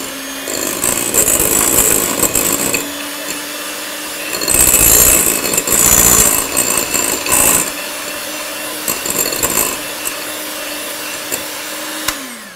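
An electric mixer whirs loudly while beating pastry cream for puff pastry apple tartlets, running in bursts that rise and fall with short pauses between them and no talking.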